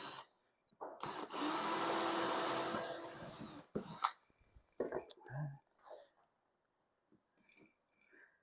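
A power drill bores holes into a squeaky wooden floor in one sustained loud burst of about two and a half seconds, followed by short knocks and handling noises with soft talk.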